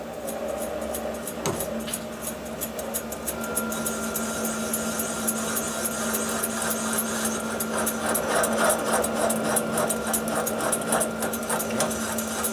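A cutter works the aluminum cylinder head of a Harley 80ci Evo during a valve job, giving a close, steady whirring with a rapid rhythmic chatter and a sharp clunk early on.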